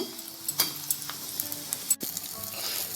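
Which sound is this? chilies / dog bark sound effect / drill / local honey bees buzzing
chilies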